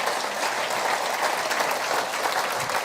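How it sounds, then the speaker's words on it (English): Audience at a memorial anniversary celebration giving a round of applause, a dense, continuous roar of many hands clapping for about three seconds. "Give him a round of applause."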